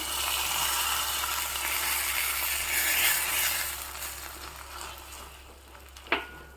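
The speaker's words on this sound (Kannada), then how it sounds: "ಎಣ್ಣೆ ಸಾಸಿವೆ ಸ್ವಲ್ಪ ಜೀರಿಗೆ ಉದ್ದಿನಬೇಳೆ ಕರಿಬೇವು ಮತ್ತು ಒಂದು ಒಣಮೆಣಸು ಸ್ವಲ್ಪ ಇಂಗು ಹಾಕಿಬಿಟ್ಟು ಒಗ್ಗರಣೆ ಹಾಕ್ತಾ ಇದ್ದೀನಿ" A steady hiss of oil sizzling with mustard seeds, cumin, urad dal, curry leaves, dried chili and asafoetida, crackling continuously before a brief clink near the end.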